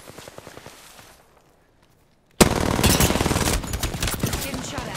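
Rapid automatic gunfire in Apex Legends opens suddenly after a near-silent pause, with loud, dense bursts that continue steadily to the end. No one speaks.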